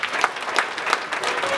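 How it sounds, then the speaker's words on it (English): A church congregation clapping hands together, dense rhythmic applause with a few sharp accents, fairly close and steady throughout. "Clap your hands beautifully for our Lord Jesus Christ."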